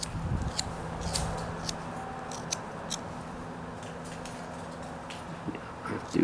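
A knife whittles down a small wooden canoe paddle, making faint, close scraping cuts and light clicks in an irregular rhythm over a quiet background.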